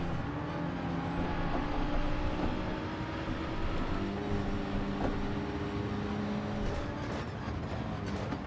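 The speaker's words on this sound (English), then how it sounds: "Hit the brakes." A vehicle brakes in a video game, with a sustained engine drone and thin whining squeal tones holding over a rumbling, hissy bed throughout, no talking.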